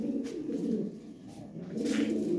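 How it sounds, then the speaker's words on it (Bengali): Lahori pigeons coo close by at a pigeon seller's in soft, repeated low throaty phrases that rise and fade over a faint background, with no talk. "অনেক সুন্দর সুন্দর কবুতর আছে, দেখলে ভালো লাগে।"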